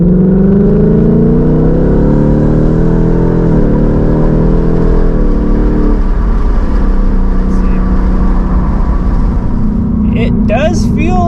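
A 2022/23 Ford Mustang fitted with a CORS intake accelerates along back roads, its engine drone climbing steadily through the gears, loud and close from inside the car, with faint talk near the end.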